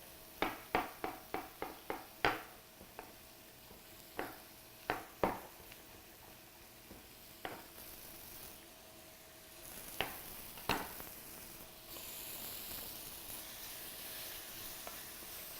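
Scallops go into a pan of sauce one after another, each landing with a sharp sizzling splash in a quick series before a steady, quiet bubbling sizzle takes over.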